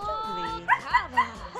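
Small dogs in The Sims 2 giving three short yips and whimpers in quick succession, under a voice talking over a game soundtrack.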